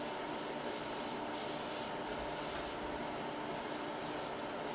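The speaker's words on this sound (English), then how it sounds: "You can use this brush, which is a little harder bristle, and use swirling techniques, circular motion." A firm-bristled brush is dry brushed over skin in swirling circular motions, a continuous close scratchy rubbing that stays steady throughout with slight surges, no talk.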